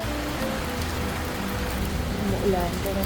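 Steady rain patters on a surface during a trip in Vietnam, a continuous even hiss with faint voices underneath.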